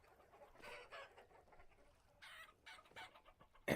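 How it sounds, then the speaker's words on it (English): Chickens clucking in the farming survival game Vintage Story, several hens giving soft repeated clucks and squawks at close range, with a sharper loud squawk at the very end. "definitely need to cull some of these chickens."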